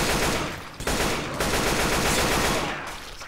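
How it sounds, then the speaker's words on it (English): Dense, continuous gunfire from the Left 4 Dead 2 video game, rapid broadband bursts running nearly unbroken at high level, with brief dips. "Stop shooting me!"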